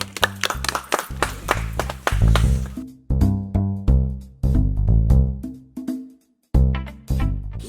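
Several people clap by hand in a village comedy scene, with bursts of sharp claps broken by short pauses and one brief silence, loud and close.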